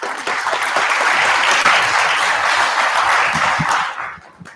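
An audience at a cybersecurity conference talk bursts into steady, loud applause welcoming a speaker, sustained for several seconds before fading out at the end, with no voices over it.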